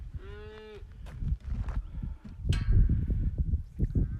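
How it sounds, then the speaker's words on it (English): A cow lets out a loud, drawn-out moo close by at the start, followed by scuffling, thuds and rustling movement as it wanders near a fence, with no speech over it. "Yo, Claire, there's a cow right there"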